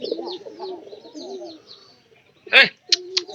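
Pigeons coo softly in repeated low, rounded calls through most of the stretch, with a few brief louder sharp sounds near the end.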